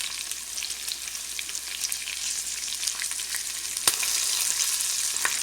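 Green chilli pieces and chopped garlic fry in a hot tempering for masoor dal, giving a steady, close sizzle with scattered pops and crackles and a brief sharp clatter partway through; no one speaks.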